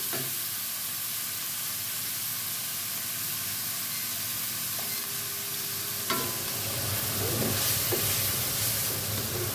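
Garlic stir-fries in hot oil in a pan for a pork belly, bamboo shoot and basil dish, giving a steady close sizzle with scraping stirs that grow busier toward the end. No one speaks.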